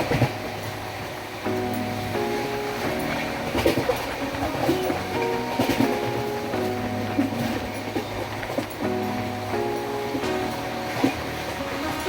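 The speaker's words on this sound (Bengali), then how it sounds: "আমাদের ট্রেন এখন বিহার স্টেট ক্রস করছে।" Heard from aboard a passenger train crossing Bihar, India: a continuous rolling rumble with rhythmic wheel clatter and occasional thumps, steady and close, with no talking.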